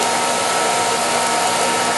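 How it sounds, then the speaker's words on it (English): A regular hair dryer running on its hot setting while heating shrink wrap, a loud close steady whooshing roar of blown air that holds constant throughout. "Now the dryer is on"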